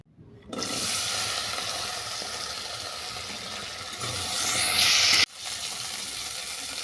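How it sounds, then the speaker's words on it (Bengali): Raw tamarind frying in a little oil in a pan, a steady bright sizzle that starts abruptly and runs continuously, swelling briefly before a sharp drop and then carrying on, with no talk. "কড়াতে অল্প করে তেল দিয়ে তেঁতুলটাকে ভেজে নেব"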